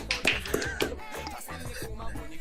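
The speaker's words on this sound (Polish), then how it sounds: "bije dla ciebie brawa" A single person claps a few times during a casual freestyle audio log, giving sparse, sharp, close claps separated by short pauses.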